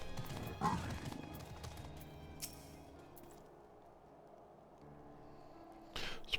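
Riding a goat mount through a town in the video game Final Fantasy XIV: soft, steady hoof clip-clop with a brief animal bleat near the start, quiet under faint game ambience and occasional effects.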